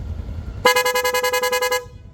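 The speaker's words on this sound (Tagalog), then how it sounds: "Rapid horn and combo lights po ito." A Yamaha MSI125 motor scooter horn honks rapidly in a steady series of about a dozen short, loud, bright beeps, close by, ending abruptly.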